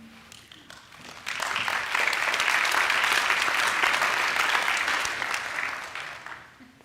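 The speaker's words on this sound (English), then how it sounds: "they clap easily" An audience at a Dickinson State University investiture ceremony breaks into sustained applause, rising quickly to a full, even clatter of clapping before tapering off near the end.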